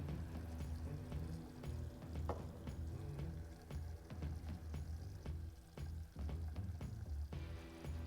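Hot caramel for flan hisses and sizzles steadily as water is added, with scattered crackling pops, faint and continuous throughout.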